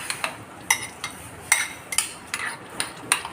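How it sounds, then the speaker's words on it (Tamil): Spanish omelette ingredients being mixed in a bowl, about a dozen crisp clinks of a utensil striking the bowl in an uneven rhythm, close and clear with no talk. "நல்லா கலக்கிட்டுருவோம்."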